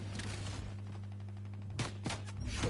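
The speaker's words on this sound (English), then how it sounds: "Oh, somebody's shooting at me." Gunfire from another player in a chaotic solo video game match: a few sharp, loud shots crack out near the end over a steady low game hum, spaced irregularly rather than in a sustained burst.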